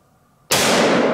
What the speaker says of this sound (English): Shoot him right in the middle.